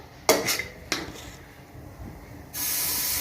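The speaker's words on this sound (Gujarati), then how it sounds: "હવે આપણે પાછું એક ચમચો ભરીને બેટર નાખી દઈશું" A ladle of vegetable pudla batter goes onto an oiled hot pan: a couple of sharp utensil clinks, a quieter pause, then a loud, steady sizzle that holds to the end.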